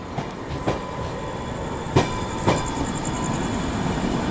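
A train on a parallel track rolls past another, with a steady rail rumble, sharp clacks at joints and a faint high wheel whine, heard from on board without voices.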